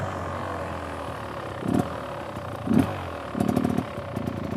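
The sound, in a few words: motorcycle engine revving while riding slowly through cones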